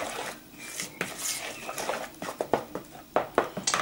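Small spoonfuls of banana cookie dough go onto a baking tray, heard as a series of close, quick clinks and taps of a spoon against metal, growing busier toward the end.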